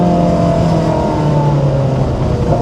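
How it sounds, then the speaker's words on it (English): Ferrari 430 Scuderia engine heard from inside the car, a loud steady drone with shifting tones that dip and settle as it downshifts, continuous throughout with no talk. "downshifts are awesome in this thing"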